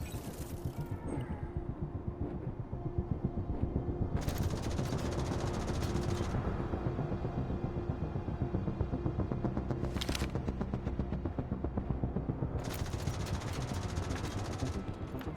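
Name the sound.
hostile turret firing in video game The Division Resurgence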